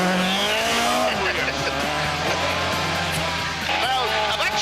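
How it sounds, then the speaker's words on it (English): A 1972 RAC Rally-winning Ford Escort is thrown into a handbrake turn with its tyres skidding: a loud, close engine roars and revs while tyre squeal slides up and down, with voices at times. "Now you're going to try a handbrake, are you?"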